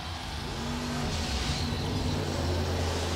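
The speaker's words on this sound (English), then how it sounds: "here comes the Fortnite stunt truck, big air right out of the tunnel" A Fortnite-themed monster truck's engine roars and revs steadily at a Monster Jam World Finals freestyle event in a Los Angeles stadium, a loud, continuous, droning engine with crowd noise behind it.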